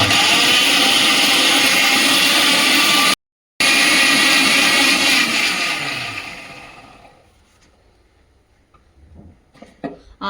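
A mixer grinder purees fresh mint, coriander leaves and ginger with a little water for a mutton biryani paste. It whirs loudly and harshly, stops for a split second, resumes, then winds down to quiet with a few light clinks.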